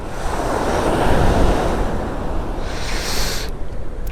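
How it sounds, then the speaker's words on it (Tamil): Sea waves surge and break on a shore as a cyclone approaches, a loud continuous rushing wash with gusting wind noise on the microphone, swelling midway and easing toward the end. "அந்த சைடு போனால் பெரிய கடல். அங்கே அலையும் நல்லா அடிக்குது."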